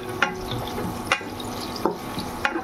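Chopped taro fries in a pan with a cumin tempering, giving a steady close sizzle and hiss, with several sharp scraping strokes of a spatula at regular intervals and no voices.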